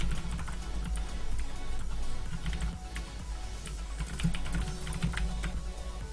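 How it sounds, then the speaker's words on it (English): Rapid, continuous clatter of keys on a computer keyboard while writing code, close and steady, with irregular bursts of keystrokes over a low background hum. "I'm really sick of typing this all out every time."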